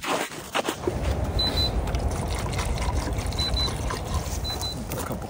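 Water pours into a pan of browned meat at a cold-night truck camp, a continuous broad splashing sizzle that runs steadily for several seconds, close and fairly loud with no talk.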